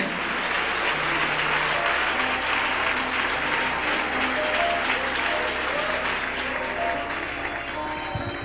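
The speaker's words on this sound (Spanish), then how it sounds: "Denle ese aplauso al Rey." A church congregation applauding during a sermon, loud sustained clapping from a large crowd that fills the room evenly for several seconds, with faint voices mixed in.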